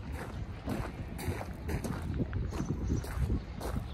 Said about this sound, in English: Wow, I love the wind.